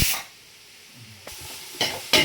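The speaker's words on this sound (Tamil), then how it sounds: "நல்லா கிண்டி விடுறேன்." Onions frying in a pot for beef dum biryani hiss and sizzle as a spoon stirs them, with a few scraping bursts toward the end over a quieter steady fry.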